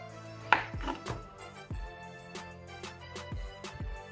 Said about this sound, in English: We're gonna cut these in cubes,